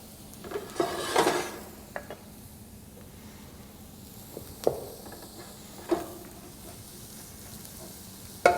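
Shallots and garlic cooking in a pan over low heat, a faint soft sizzle under scattered clanks and knocks of utensils and cookware, quiet overall.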